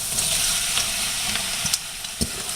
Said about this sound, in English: Give it a good stir. Make sure the celery gets covered in the oil.